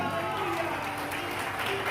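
A church congregation applauds together during a Sunday morning service, producing a dense, steady clapping that fills the room throughout, with voices mixed in.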